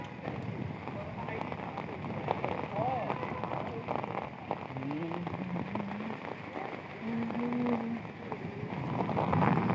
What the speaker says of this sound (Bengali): এখন বৃষ্টি তেমন একটা নাই, গুড়ি গুড়ি বৃষ্টি পড়তেছে